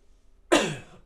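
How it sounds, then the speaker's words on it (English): A single short cough or throat clear, close and fairly quiet, with one sharp onset and a brief decaying tail and no talk. "Apologies for the coughing."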